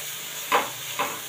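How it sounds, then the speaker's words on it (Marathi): Spice masala for a samosa filling is stirred in a pan over a low flame, with two brief, soft scraping strokes about half a second apart over a quiet background. "आता मसाला अगदी मंद गॅसवरती आपण छान असा परतून घेऊयात."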